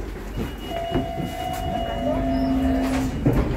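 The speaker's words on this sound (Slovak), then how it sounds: "Takto vyzerá taká poľská električka." A Polish tram runs in Gdańsk with a steady rolling hum, a sustained tonal whine and a few clunks, heard from on board.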